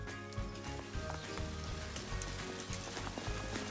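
Umbu fruit raining down from a shaken tree in the Bahia backcountry, a dense patter of many small fruits hitting the ground and leaves in close, irregular bursts.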